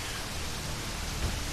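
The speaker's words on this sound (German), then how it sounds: "Das regnet draußen wirklich so." Heavy rain in the game Werkfeuerwehr Simulator 2014 hisses as a steady, uniform wash of broadband noise, moderately quiet and unbroken, with no voices.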